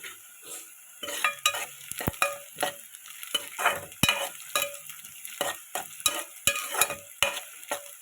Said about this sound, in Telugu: ఉల్లిపాయలు వేగుతాయి